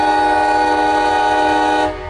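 A CSX freight train hauling loaded coal sounds a loud, sustained multi-tone horn chord close by over a rumbling locomotive, and the horn cuts off near the end.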